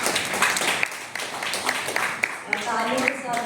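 Audience applause at a live awards ceremony, a dense wash of many hands clapping at a steady level for several seconds, with an announcer's voice talking over it.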